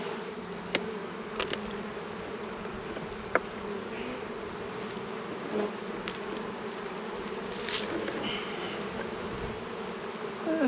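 Honey bees hum steadily around an open hive during a late-March colony inspection, a dense, continuous buzz close by with occasional louder passes of individual bees.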